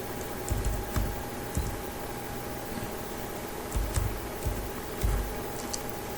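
Card details are typed on a keyboard in quiet, close bursts of key taps, a short cluster near the start and another run toward the end, with no talk.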